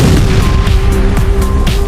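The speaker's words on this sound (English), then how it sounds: "An explosion ripped through the starboard bow, followed by a second blast from deep within." A torpedo explosion striking a ship's starboard bow, heard as a loud, dense, sustained roar of blast noise filling the whole stretch, close and overpowering, with no voices.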